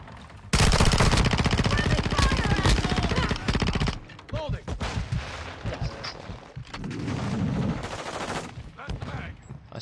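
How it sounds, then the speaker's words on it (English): Rapid automatic gunfire from a gun in a video game, a loud dense burst of close shots lasting a few seconds, followed by scattered single shots and softer game sounds. "it takes so many fucking bullets to kill anyone with this gun"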